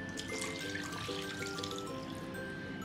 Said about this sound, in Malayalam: നമുക്ക് 1 ഗ്ലാസ് വെള്ളം ആഡ് ചെയ്ത് കൊടുക്കാം.